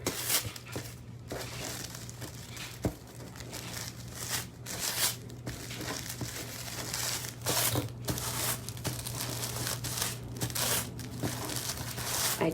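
Tissue paper is folded and rolled up by hand for a craft tassel, giving a steady close crinkling and rustling with sharper crackles and tearing-like swishes over a low constant hum.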